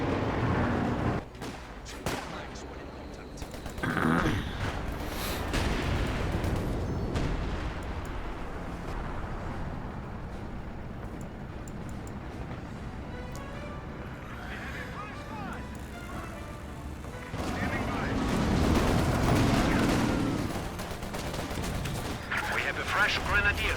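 Battle sounds from Company of Heroes 2, with tank shells striking a Panther amid dense rattling gunfire and booming impacts, run continuously under a caster's steady commentary.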